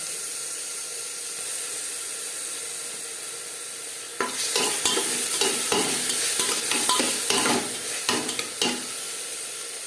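Ginger and chili paste with onion and crushed garlic stirred in a hot pan for mutton paya soup, a steady frying sizzle that turns into a busy run of close spoon scrapes and sputtering pops halfway through.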